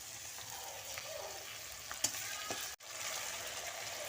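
Fried onion with a paste of cumin, coriander, ginger, garlic and chili sizzles quietly in a pan for a jackfruit curry, a soft steady frying hiss with a few faint stirring clicks.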